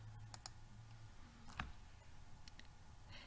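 A single sharp mouse click lands near the middle, faint and close, against a quiet low hum.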